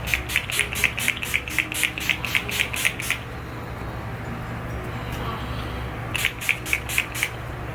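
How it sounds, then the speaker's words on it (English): Two rapid bursts of fine mist from Urban Decay All Nighter setting spray onto a face, about a dozen quick pumps each, separated by a quiet pause, close to the microphone. "I'm just gonna go ahead and spray my face with the Urban Decay All Nighter spray"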